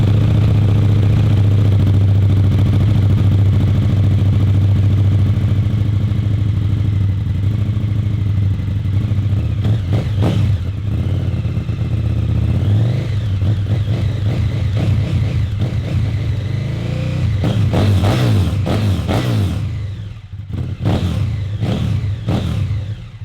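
A motorcycle fitted with an Akrapovic slip-on exhaust, its decibel killer removed, idles with a loud, steady low rumble, then revs in several throttle blips near the end, close to the microphone.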